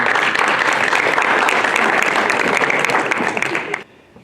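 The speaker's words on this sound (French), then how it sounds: "Et moi, je vous applaudis ce soir d'avoir pris le courage de venir." Hall audience at a political meeting in Ventabren bursts into loud, dense clapping that holds steady for nearly four seconds, then cuts off abruptly.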